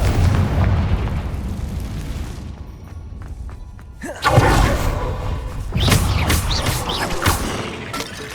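Confringo blasting-curse explosions in Hogwarts Legacy on PS5, several loud booming blasts with crashing debris, arriving in bursts a second or two apart.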